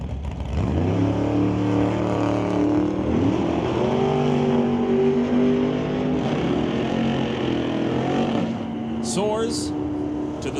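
Drag race cars at a Super Pro bracket race revving loudly with rising, sustained engine tones on the strip, a commentator talking throughout over the steady roar.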